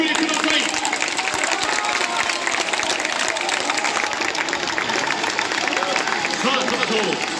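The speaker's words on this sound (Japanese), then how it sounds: "見事勝利を抑えました栃木 SC 選手へ大きな拍手をお送りください" Stadium crowd at a Tochigi SC home football match applauds the players after a win, a broad wash of clapping and crowd noise held at constant level, with voices mixed in underneath.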